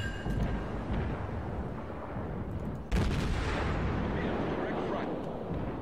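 Naval gunfire in World of Warships during a German cruiser battle: a dense, continuous booming roar with a sharper, louder blast near the midpoint, no clear talk over it.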